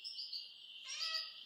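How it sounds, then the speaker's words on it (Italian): Small birds chirp in quick, thin, high tweets close by, in two short bursts with a faint pause between them. No voices. "Lo so, gli uccellini."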